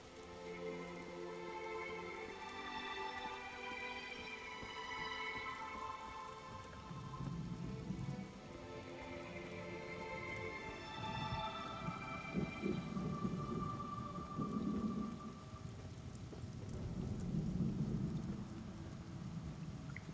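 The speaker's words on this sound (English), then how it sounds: "It is raining now, I think. It does rain rather a lot here." Steady rain patters across the whole stretch in Elder Scrolls Online, with low rumbles of thunder rolling in repeatedly from the midpoint onward, fairly close and full, and no voices present.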